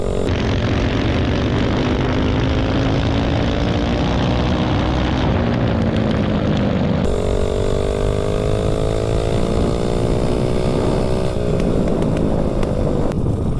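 A Taco 22 mini bike with a Tillotson 225 engine roars loudly and steadily through a top speed run, its pitch rising and shifting through the whole stretch with no talking.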